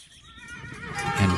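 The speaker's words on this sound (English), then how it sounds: "Loaded it onto his horse cart," A horse pulling a cart gives a short rising neigh with a hint of hoof clops, growing louder toward the end.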